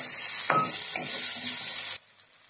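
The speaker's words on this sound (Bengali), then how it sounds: "সামান্য একটু নুন, একটু হলুদ দিয়ে আলুগুলি লাল লাল করে ভেজে নিচ্ছি।" Boiled potatoes frying in a pan with salt and turmeric, a loud steady sizzle with a couple of stirring scrapes, cutting off abruptly near the end.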